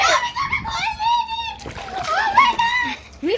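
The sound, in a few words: bucket of water poured, splashing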